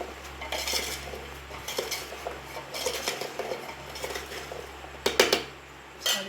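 A spoon stirs mango pickle pieces with jaggery in a vessel, making repeated clinking scrapes of metal against the pot over a low steady hum, with a louder cluster of clanks near the end.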